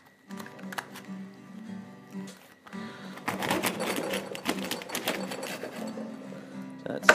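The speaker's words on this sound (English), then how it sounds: "just cut them straight down the tail" A serrated bread knife saws down the tail of a crayfish through its prickly shell under a tea towel, producing close, scratchy rasping strokes, sparse at first, then a denser run of rapid sawing.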